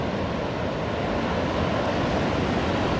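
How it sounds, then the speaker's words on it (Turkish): Sea waves surge up the beach at night on a sandy shore in Taşucu, a steady loud broadband wash of surf with some wind noise on the microphone and no voices. "Ta kıyıya kadar çıkmaya başladı. Şu dalgalara bakın."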